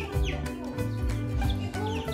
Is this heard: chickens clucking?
yes